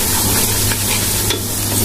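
Spices with cinnamon being stir-fried in ghee for beef khichuri: loud, continuous close sizzle with stirring scrapes and a couple of sharp utensil ticks against the pot, no voices.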